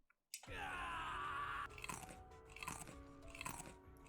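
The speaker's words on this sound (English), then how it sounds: "the noise of crunching and squelching reminding me of a large dog feasting upon a fleshy reward reached my ears" Wet crunching and squelching like a large animal feasting on flesh, starting abruptly after silence with a bright shrill tone, then repeated close, quiet bites and squishes in an uneven rhythm, with no voices.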